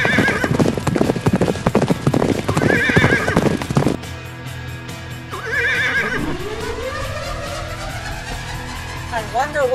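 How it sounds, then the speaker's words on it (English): Many galloping hooves thunder together with loud neighs and whinnies, then the pounding cuts off, leaving scattered whinnies and a swooping tone. "Watch out, here comes a wild stampede of horses."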